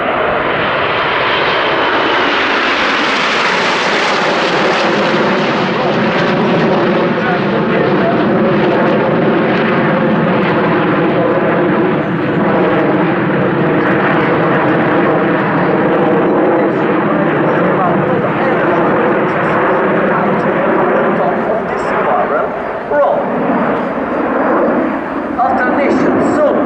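Frecce Tricolori MB339 jets roar overhead in a formation aerobatic display at the Royal International Air Tattoo, a loud continuous engine rush with a slowly shifting pitch, with a commentator talking over it.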